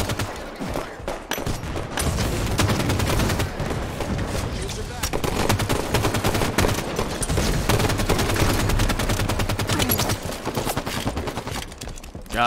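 Rapid gunfire from a Halo 5 multiplayer match, dense bursts and continuous shooting filling the clip at close range, with no one talking.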